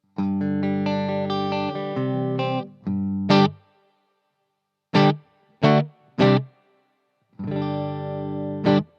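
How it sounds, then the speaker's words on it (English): Strummed electric guitar chords ring through a Bluguitar Amp1 Mercury Edition amp with reverb, several chords and short stabs, each trailing off into a brief wash before silence. "And here's the reverb."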